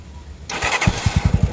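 A motorcycle engine, just treated with carbon cleaner, cranks and catches, settling into a rhythmic, pulsing idle close by.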